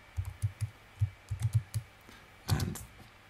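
Keystrokes on a computer keyboard during software setup on a Mac, a quiet run of about a dozen separate clicks in small bursts, ending in a quick flurry of taps, with no talking.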